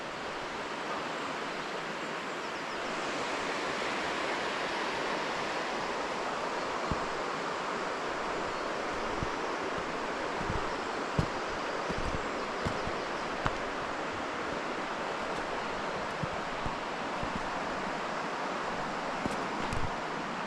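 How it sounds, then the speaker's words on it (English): Steady rushing water running down a hillside, broadband and continuous, nearby, with occasional faint ticks and knocks over the constant wash. "there's water running down from the hill up here"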